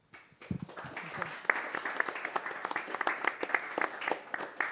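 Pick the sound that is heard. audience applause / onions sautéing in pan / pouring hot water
audience applause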